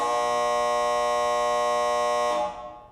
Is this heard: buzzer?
yes